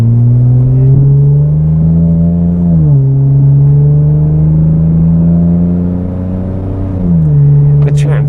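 A Lexus IS 300 engine pulls hard through the gears, its loud steady drone dipping briefly at each smooth automatic shift, twice in succession, close and continuous with no talk over it.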